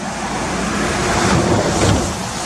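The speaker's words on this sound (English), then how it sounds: "this water coming down underneath the road is what's coming from COTTERFORCE waterfall area" Stream water from the Cotterforce waterfall area rushing beneath a road, a steady broadband wash that swells slightly midway, close and fairly loud with no voices.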